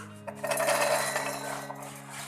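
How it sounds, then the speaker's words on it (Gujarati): Fresh green chickpea kernels are dropped into a mixer jar, making a brief close rattling patter of grains hitting the jar that lasts under a second, followed by quiet. "મિક્સર જાર લઈ તેની અંદર દાણા નાખીશું"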